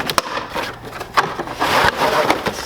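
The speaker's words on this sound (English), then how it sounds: "Make sure I unwrap it with care." A Kobalt impact wrench box being unwrapped up close, with a series of sharp cardboard rips and crinkling handling noises scattered across a few seconds and no talk.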